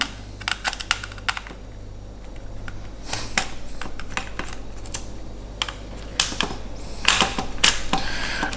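Small screws being backed out of a WPL D6X RC car chassis near the front differential, a string of light irregular clicks and ticks from the driver, fairly close over a steady low hum.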